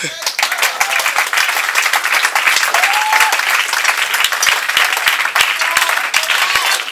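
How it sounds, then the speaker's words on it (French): A church congregation applauds loudly and continuously at a French-language worship service, dense clapping filling the space with scattered cheers and voices mixed in. "On acclame très fort."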